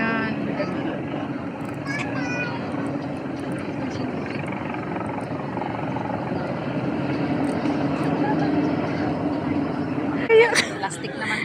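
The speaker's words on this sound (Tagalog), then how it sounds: "Helicopter dito nagdadala ng flag." Helicopter carrying the flag over the Singapore National Day celebration, a steady droning rotor and engine hum held throughout under constant crowd chatter and people talking nearby.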